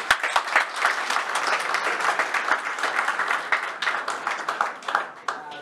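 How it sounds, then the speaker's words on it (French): An audience at a political party anniversary event for Gabon's Parti Démocratique Gabonais in France applauds, a mid-sized crowd clapping in a busy, uneven patter with a few sharper individual claps standing out. "Vous pouvez vous applaudir."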